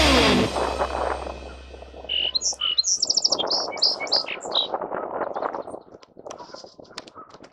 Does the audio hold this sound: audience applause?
no